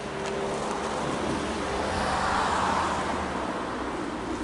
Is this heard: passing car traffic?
yes